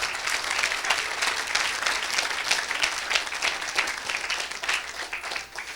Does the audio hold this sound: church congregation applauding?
yes